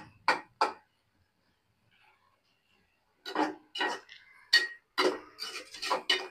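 A lid clanks twice onto a pan of beans on the stove, two sharp metallic knocks close by, followed after a pause by a run of further clinks and kitchen clatter.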